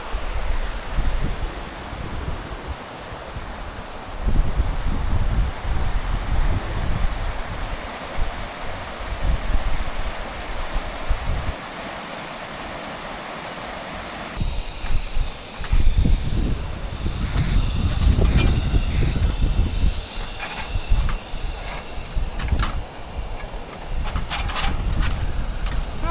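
Strong wind gusting at an outdoor raw campsite as darkness falls, a broad steady roar with swelling gusts, rougher and louder in the second half.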